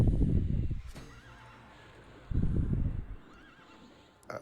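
A horse in the video game EverQuest neighs loudly twice, each whinny clear and close, with faint ambient game sounds in between.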